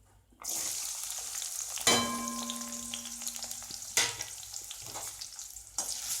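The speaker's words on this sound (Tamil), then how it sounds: "இப்போ அடுப்பில் வந்து நல்லெண்ணெய் வந்து காஞ்சாச்சு. இப்போ இதில் நம்ம சின்ன வெங்காயத்தை போட்டுடலாம்" Small shallots hit hot sesame oil for a brinjal gothsu, starting with a sudden loud sizzle burst after a brief quiet, then steady crackling frying with a few sharp clanks of utensil against pan, close up.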